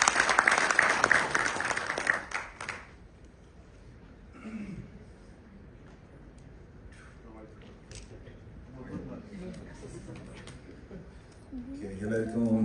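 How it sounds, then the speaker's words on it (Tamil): Loud applause from the crowd at a music video launch event rings for about three seconds and cuts off, followed by someone speaking into a microphone over a quiet room. "அவருக்கு ஒரு பலத்த கைத்தட்டல் கொடுத்துடலாம்."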